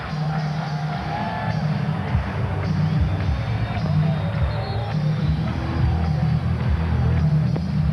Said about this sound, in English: this crowd has reacted in enthusiastic fashion here in the fourth quarter